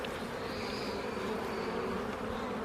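Honeybees swarm and buzz in an open beehive during a spring inspection, a steady, close hum filling the short moment without any talking.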